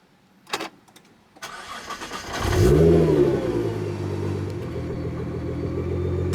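A 2008 Nissan GT-R's engine cranks over after a couple of clicks, catches with a loud rising rev, then settles into a steady, rumbling idle that continues to the end, close by and with no talking.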